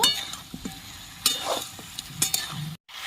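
Meat sizzles in a pan with cumin and chili powder while a spoon stirs it, making a steady frying hiss broken by scraping strokes and a few clinks. The sound is close, with no talk.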